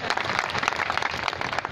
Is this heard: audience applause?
yes